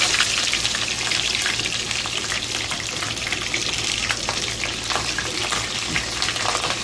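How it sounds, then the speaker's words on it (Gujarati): Whole brinjals stuffed with spice masala fry in hot oil with cumin seeds, giving a steady, dense crackling sizzle that holds at an even level throughout, close and without any talk. "હવે જે આપણે મસાલો ભરેલા રીંગણા છે તેને આપણે તેલની અંદર"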